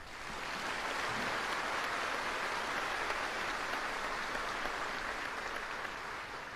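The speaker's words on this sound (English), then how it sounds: "Can I please get a round of applause for the band?" Audience applause for the band at a military basic training graduation ceremony, a broad, steady roar of distant clapping from a large crowd, sustained evenly for several seconds.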